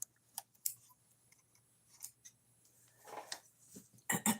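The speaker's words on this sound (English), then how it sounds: "Cut my threads." Scissors snip sewing threads at a sewing machine after backstitching batik fabric, several quiet crisp clicks and cuts spread out, ending in a louder close burst, with no talking.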